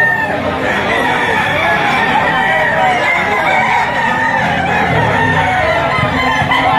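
Roosters and chickens at a poultry auction, with crowing and clucking rising over a dense background of crowd chatter, loud and continuous throughout.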